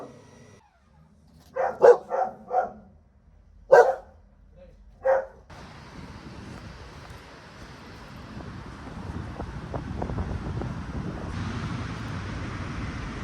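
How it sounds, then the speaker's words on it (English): A dog barks five or so sharp, close times in quick bursts at a family home in Holland, then falls quiet as steady wind buffets the microphone. "Notice the dog."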